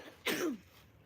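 A single short, harsh cough, close and clear against a quiet background.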